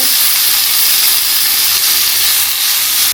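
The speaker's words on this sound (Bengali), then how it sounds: "আমার শাক ভাজি হয়ে গেল" Leafy greens frying in hot oil in a home kitchen pan, a steady, loud broadband sizzle and hiss that runs unbroken for about three seconds with no voices.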